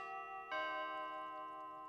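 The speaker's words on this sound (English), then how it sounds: "the bell tolled to 6" A clock bell in Five Nights at Freddy's 2 strikes at 6 AM, a single clear chime ringing out sharply and then sustaining in a long, faint, slowly fading tone with no other sound.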